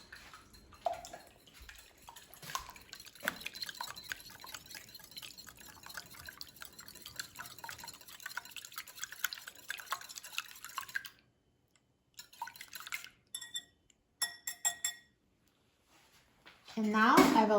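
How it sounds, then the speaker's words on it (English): Eggs being whisked with two tablespoons of milk in a bowl: faint, quick, rhythmic clicking and tapping with short pauses, ending in a louder clatter. "And now let's whisk the eggs."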